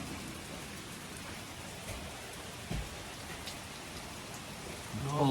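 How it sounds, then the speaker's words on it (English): Heavy rain pours steadily across the Scottish Highlands in Glen Coe, a dense, constant hiss of drops hitting the ground close by, with a brief thump partway through and a faint voice starting at the very end. "It started to rain so heavily."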